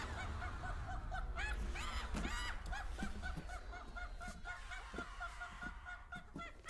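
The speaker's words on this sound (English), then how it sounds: "Sounds like a bird or something." Honking, goose-like bird calls from the video game Metal Gear Solid 4, repeated in uneven bursts over steady background game ambience and a low rumble.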